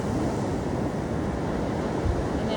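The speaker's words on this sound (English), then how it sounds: "As you hear the ocean come in" Ocean waves rush steadily onto the beach at La Playa Negra, Costa Rica, a dense, loud, unbroken surf roar with some wind noise and no voices.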